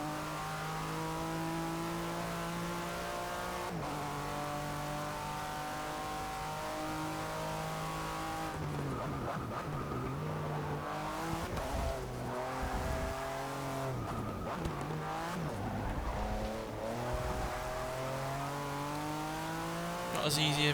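Porsche Le Mans race car in Forza 6, a continuous loud engine whine rising and dropping through gear changes, with tire squeal and a braking dip mid-clip; someone talks over it.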